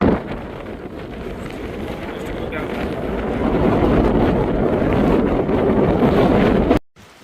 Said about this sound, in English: It was getting a little windy up there. Real windy.